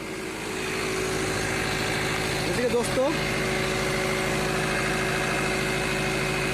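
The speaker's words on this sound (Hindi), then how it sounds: "मैं बाहर ले जाके भी आपको दिखाता हूँ गाड़ी का इंजन का साउंड" Steady diesel idle from a Tata Intra V30 BS6 pickup running DPF regeneration, a close, even mechanical drone with a constant low hum, while someone speaks briefly over it near the middle.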